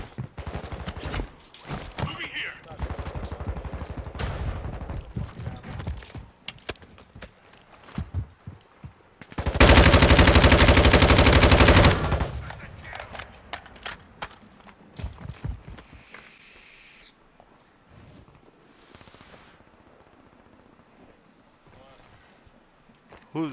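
Bursts of gunfire in the shooter game Warzone 2, with a dense, loud burst of rapid shots in the middle and scattered sharper shots around it, mixed with footsteps and game sounds while players talk.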